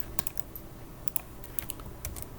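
Keys clatter on a computer keyboard as code is typed for a programming assignment, a steady run of soft close clicks in irregular rhythm, with no voices.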